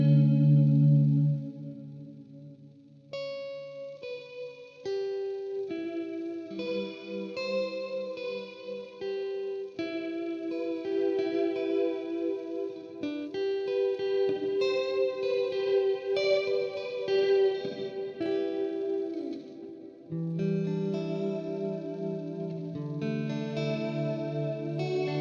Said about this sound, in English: I have the warp modulation on, so it kind of gives it like a very randomy chorusy sound